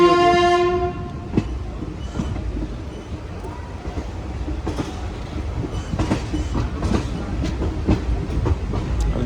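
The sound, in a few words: Begampura Express passenger train running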